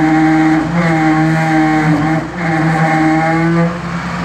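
A Mijack 500B straddle-carrier engine revs hard and steady, its loud droning note rising and shifting as the machine strains against stuck drive brakes, with a brief dip midway and no talking.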